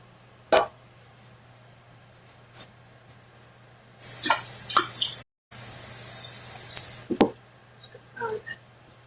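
A tap runs hard into a can for rinsing, a loud hissing gush lasting several seconds with one brief break, set among scattered clinks and knocks before and after.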